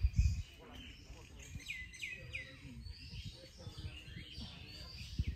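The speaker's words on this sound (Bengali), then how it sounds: "পাখিরা ডেকে যাচ্ছে নিজের মনে।" Small birds chirp and call with repeated bright tweets on a village morning beside a canal at Keshorita in Gazipur, with low rumbling and handling noise underneath.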